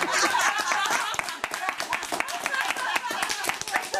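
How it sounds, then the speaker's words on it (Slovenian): An audience claps steadily and densely in a Slovenian weekly news comedy show, with scattered chuckles and laughter mixed into the applause and a voice speaking partly over it throughout. "Tle bi mogli zaploskati, ker gremo na naslednjo temo"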